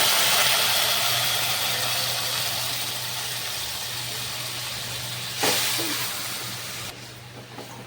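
Chopped onion and green chili fry in a pan until brown for a rohu fish dish, making a steady, close sizzling hiss that thins out slightly near the end.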